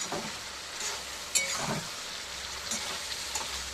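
Fish frying in spiced oil in a pan, a close, steady sizzle with occasional sharper pops and stirring scrapes throughout.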